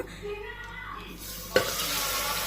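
Mutton hits hot oil in a pressure cooker for a village-style curry, a sudden clank followed by a steady, loud sizzle that continues to the end.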